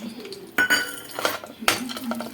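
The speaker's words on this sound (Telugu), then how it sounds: "మనం ముందే మనం కట్ చేసి పెట్టుకున్న బాదం పప్పులు జీడిపప్పులు వేసేసేద్దాం." Chopped almonds and cashews tipped into a cooking pan while making mango semiya kesari, heard as three or four sharp clattering, clinking bursts against a quiet kitchen background.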